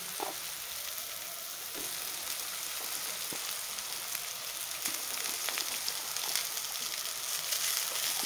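Leftover cooked rice stirred into a hot spiced tempering in a pan, giving a steady close sizzle with occasional scraping stir sounds throughout.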